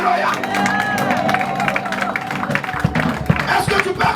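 A church congregation at a conference cheering and acclaiming Jesus, with mixed shouts, scattered clapping and crowd babble, loud and close, voices carrying over the noise.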